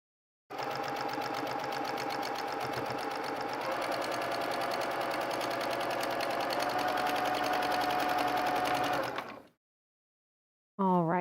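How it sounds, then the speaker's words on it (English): A sewing machine stitches jelly roll fabric strips for quilted letters, giving a steady, close, rapid mechanical whir for about nine seconds before stopping, followed by a brief sound at the end. "So I'm going to go ahead and grab that and sew the other side."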